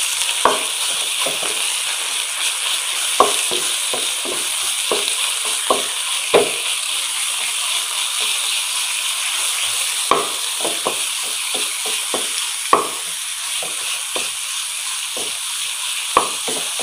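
Minced meat (keema) frying in a little oil in a pan, a steady sizzling hiss broken by frequent sharp clicks and scrapes as a spoon stirs and mixes it.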